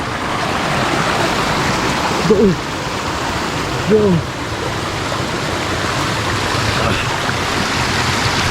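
Talusob Falls in Magsaysay, Davao, gives a steady, loud wash of rushing water filling the whole scene, with a couple of brief voices rising over it.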